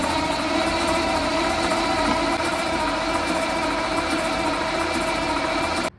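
Caterpillar diesel engine being cranked over to check a pump drive gear, a steady dense mechanical whir with a constant tonal hum that runs evenly for several seconds and then cuts off abruptly.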